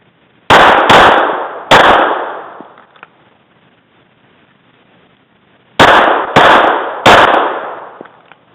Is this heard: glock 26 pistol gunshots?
yes